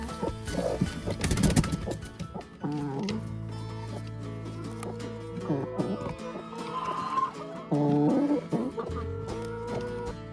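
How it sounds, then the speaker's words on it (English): Chickens cluck and squawk in a busy, overlapping chorus over about ten seconds, with some louder calls rising above the steady farmyard din. "Chickens are great and they're really easy."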